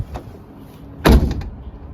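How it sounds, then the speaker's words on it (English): A single solid car door slam on a 2011-2016 Hyundai Elantra lands midway, a heavy thud with a short rattle after, preceded by quiet background and a faint click. "let's listen to the slam test now."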